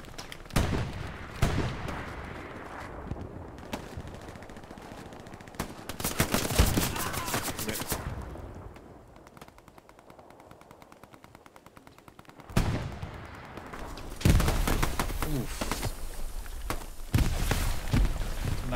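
Gunfire in the Hell Let Loose World War II shooter: loud bursts of machine-gun fire and rapid rifle shots come in dense clusters, with a quieter lull partway through before the firing picks up again.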